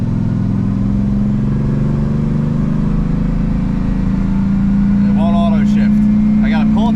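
A Pontiac LeMans with a rebuilt automatic transmission held in third drives with a steady, loud engine drone throughout, and a voice speaks briefly near the end.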